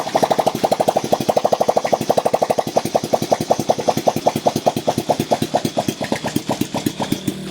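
A motorcycle with a battery problem running close by with a rapid, even putt-putt rhythm that stays steady throughout, with no voices over it.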